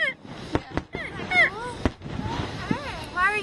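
Distant fireworks thump and crack several times at uneven intervals while people, including children, talk close by over them.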